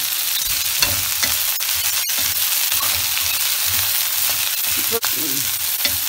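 Okra sautés in hot oil with fenugreek seeds and asafoetida for a lady's finger pachadi, a loud, steady close-up sizzle broken by occasional scrapes and clicks of a stirring spoon against the pan.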